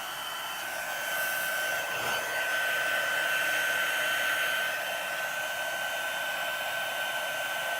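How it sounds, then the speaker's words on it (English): A heat gun blows hot air for embossing a journal cover, a steady close whooshing drone with a thin high whine, holding constant for several seconds with no speech. "my heat gun"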